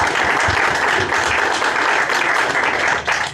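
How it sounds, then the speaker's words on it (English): An audience at the #ForCoral Pavilion on Ocean Day gives a speaker a round of applause, dense sustained clapping from many people at close range, loud and even, tapering slightly toward the end. "I think we can give Carlos a big round of applause."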